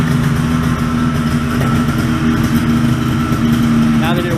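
Someone's Sport 2S engine idles steadily after warming up, a close, continuous low hum with a slight rise in revs, under a voice.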